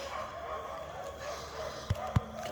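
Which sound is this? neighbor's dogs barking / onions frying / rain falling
neighbor's dogs barking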